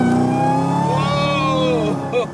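A Hennessey Exorcist's engine revs up on a downshift, a loud close roar whose pitch climbs and falls across a couple of seconds, ending with a brief burble.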